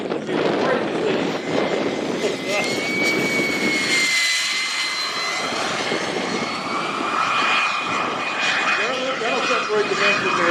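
Model airplane engine roaring steadily overhead at a demo show, a loud sustained whine that shifts in pitch as the plane passes, with crowd noise and a voice talking underneath.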